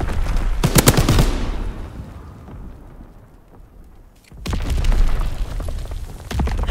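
Heavy mortar blasts and rumbling explosions in a Call of Duty WWII multiplayer domination match. A loud burst of booms and gunfire comes first, then a quieter lull, then another strong barrage.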